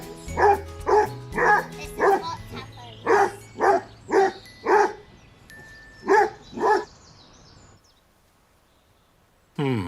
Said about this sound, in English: Buster the Basset Hound has stolen the show